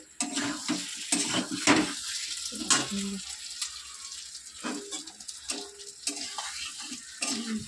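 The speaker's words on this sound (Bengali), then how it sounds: "দেখো জাস্ট কালারটা দেখো, আস্তে আস্তে মশলা থেকে তেল ছাড়ছে।" Masala paste fries in oil in a pan for a fish curry, with soft, steady sizzling broken by scraping stir strokes and light clinks, close by and without talk.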